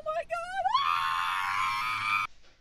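A person screams in a loud, sustained, strained cry lasting most of the clip, rising from shorter vocal bursts into a long held scream, then cutting off abruptly.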